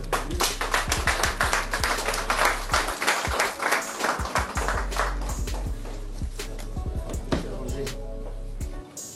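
Applause from an audience at a ministerial handover ceremony between outgoing and incoming ministers, sustained and fairly loud over several seconds with scattered distinct claps and a low steady hum beneath.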